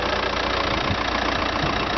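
A 2008 Audi A4 with a 1.9 litre 8-valve four-cylinder TDI turbo diesel engine idles steadily, giving a close, continuous rumbling clatter with no speech.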